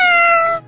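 A single clear cartoon cat meow from an animated children's story, loud and near, held tonal and fading out in under a second.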